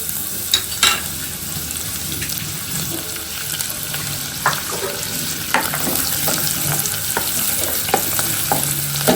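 Sliced onion fries in a pan, giving a continuous close sizzle with scattered spatula clicks and scrapes and no talking.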